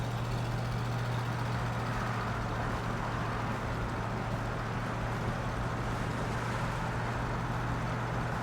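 A 1966 Ford Mustang's 289ci V8 drives along under light throttle, giving a steady, even low drone with a constant hum and broadband road and engine rumble. The sound is continuous throughout, with no talking.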